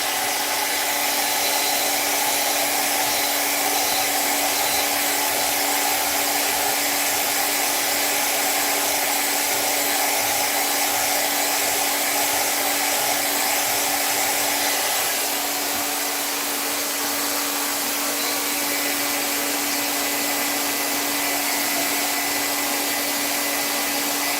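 A blow dryer set to cool air runs steadily while drying a Moluccan cockatoo's feathers in a tub, giving one continuous, fairly loud whooshing whir with no break and no talk.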